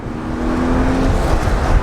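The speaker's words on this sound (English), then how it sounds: "You got the gas pedal all the way down." A high-mileage Audi A6 Quattro with some 300,000 miles accelerates at full throttle, its engine a loud, close, sustained roar that holds steady and swells slightly toward the end.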